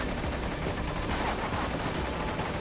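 Dense, continuous gunfire in the video game Metal Gear Rising: Revengeance crackles for a few seconds, rapid overlapping bursts with no pauses or voices.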